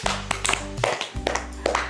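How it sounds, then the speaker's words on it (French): Children and family members clap together in a short burst of applause during a home spiritual discussion, sharp hand claps ringing close over a steady sustained tone. "On applaudit."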